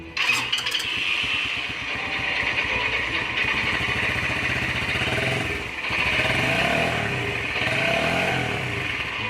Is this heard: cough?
no